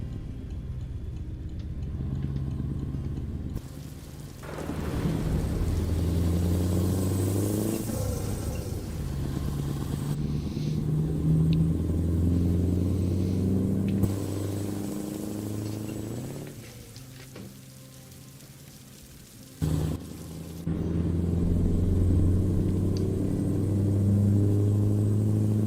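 Scania V8 engine of an 8x4 truck pulling a heavy load in American Truck Simulator, a deep rumbling drone that rises and falls through gear changes, with brief drops and dips between pulls.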